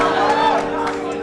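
A brief burst of crowd cheering at a Frank Turner concert, many voices together, loud and close for about a second.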